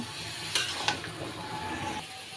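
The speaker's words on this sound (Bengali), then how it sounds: "এখন ঝোলটা লাউটা দিয়ে দিচ্ছি দিয়ে এবারে মিক্স করে" Bottle gourd being stirred into a fish curry in a pan, with a couple of sharp spoon scrapes over a steady low sizzle of the simmering gravy, close and fairly quiet, with no talking.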